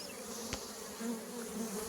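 Honeybees swarm over a hive, their steady, close buzzing droning continuously with one brief click partway through and no voices.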